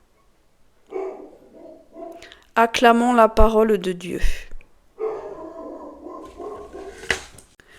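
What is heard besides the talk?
dog barking in the background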